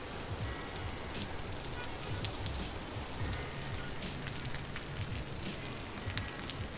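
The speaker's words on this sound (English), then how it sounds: "the rain does sound good" Steady rain falling in the video game Vintage Story, a dense, even hiss of drops that continues without pause throughout.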